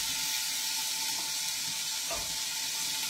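Lard heating in a frying pan gives off a continuous hissing sizzle, fairly close and steady, with a faint thump midway and no talking.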